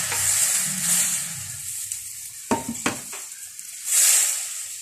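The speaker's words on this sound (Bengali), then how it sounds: "এখন আমি রসগোল্লাগুলি দিয়ে দিব।" Rasgullas dropped into a pan of boiling sugar syrup give a steady bubbling hiss, with a couple of sharp utensil knocks midway and a louder surge of boiling toward the end; no one speaks.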